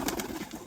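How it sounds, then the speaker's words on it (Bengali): Large Siraji pigeons in a pigeon loft give a brief, soft, throaty coo, heard close against a noisy background. "বিগ সাইজের পায়রা একদম"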